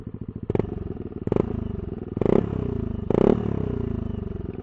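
A Yamaha Aerox 2022 scooter fitted with a 3 Tech Ronin Hanzo exhaust in street racing mode idles with a deep, loud burble close up, revved in four short blips.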